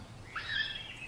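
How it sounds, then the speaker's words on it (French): A single bird call rises and trills briefly at moderate distance over low background hum, heard in a quiet outdoor setting with no talk. "c'est quoi, cet oiseau-là?"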